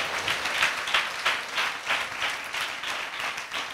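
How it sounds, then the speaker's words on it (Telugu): A church congregation claps together at a sermon, steady rhythmic applause with regular beats throughout, moderately loud and filling the room, no voices over it. "కొట్టండి మరి చప్పట్లో, యేసయ్య ఇస్తున్నాడు"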